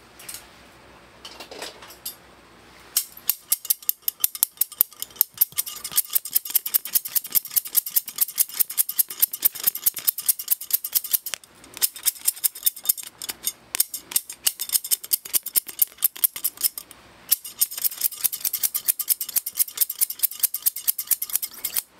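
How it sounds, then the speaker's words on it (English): Scissors cut hair close up during a barbershop haircut, snipping in rapid, crisp runs with only brief pauses between bursts. "We have razors as well as scissors."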